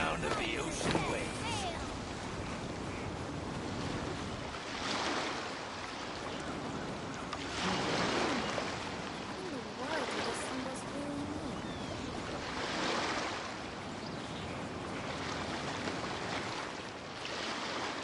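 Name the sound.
ocean waves in the video game Genshin Impact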